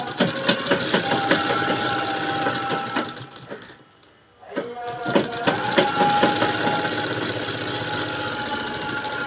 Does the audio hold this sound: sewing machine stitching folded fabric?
yes